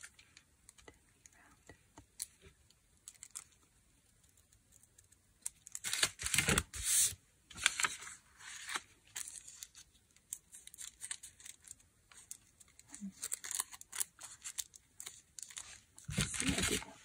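Paper is torn and cut with scissors while making paper flowers, giving close, irregular bursts of crisp tearing, snipping and crinkling between quiet pauses.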